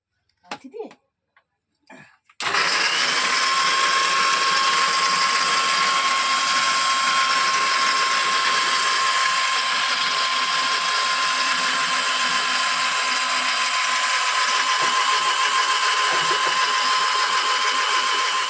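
Electric mixer grinder whirring steadily as it grinds spice paste, a loud continuous motor whine lasting many seconds after a few brief knocks and a short voice at the start.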